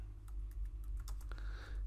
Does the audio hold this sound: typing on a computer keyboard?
yes